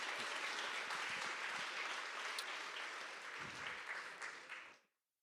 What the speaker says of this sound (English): Y'all can give him a round of applause.